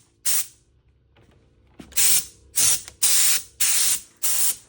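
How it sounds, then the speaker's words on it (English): A Kobalt 26-gallon Quiet Tech air compressor blows air through a nozzle in a barbershop: six sharp, loud hissing bursts, each about half a second, separated by short quiet gaps, close up. "the compressor works good."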